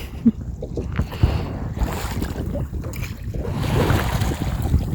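Rowing a small rowing boat on a Lake District lake, with oars splashing and knocking softly and water lapping, under steady wind buffeting the microphone throughout.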